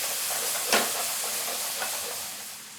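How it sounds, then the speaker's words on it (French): White wine hits a hot pan of fried lardons, releasing a loud, steady hiss and sizzle with a couple of brief, sharper bursts as it bubbles. "Là, on va déglacer au vin blanc."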